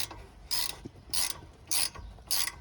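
A seized rear brake guide pin on a 2008 Jeep Wrangler being worked loose gives four evenly spaced bursts of metallic grinding and scraping, each about a quarter second long, close and otherwise quiet.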